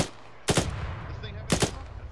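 Gunfire in a military video game: two sharp bursts of shots about a second apart, loud and close, with a low background rumble between them.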